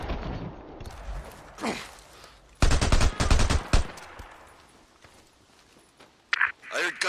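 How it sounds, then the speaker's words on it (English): Several sharp gunshot-like bursts from the game Days Gone on PS4, clustered loud reports midway with scattered shots later, mixed with a voice and busy background sound. "I heard gunshots."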